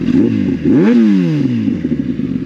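A 2021 Kawasaki ZX10R SE sport motorcycle engine revs hard and climbs in pitch as it accelerates, loud and close, with a steady rumbling roar throughout.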